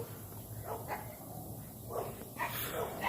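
Several dogs bark outdoors in a few separate bursts at moderate distance, their loud woofs and yips breaking over a steady background hiss.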